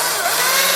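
A Stihl MSA 220 C electric chainsaw cuts through rotten wood with a dull chain, giving a steady, loud, close-up buzzing whine throughout the short moment.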